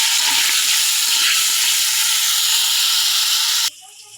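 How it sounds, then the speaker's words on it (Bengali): Loud, continuous sizzling of chicken pieces frying in hot oil, a dense crackling hiss that cuts off abruptly near the end. "মাংসগুলো ভাজা নিচ্ছি"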